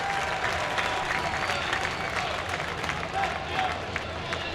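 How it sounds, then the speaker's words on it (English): A crowd at a minor-league Eastern League championship baseball game cheers and applauds after a sacrifice fly brings in a run. It is a steady, lively roar of clapping and voices, with a commentator talking over it. "Listen to that crowd."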